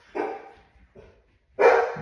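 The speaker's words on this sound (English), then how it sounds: "I don't know what she was barking at" A dog indoors barks three times, close and loud, with a short yappy bark, a softer one, then a strong final bark. There is no other voice.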